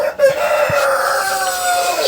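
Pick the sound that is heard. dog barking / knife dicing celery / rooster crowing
rooster crowing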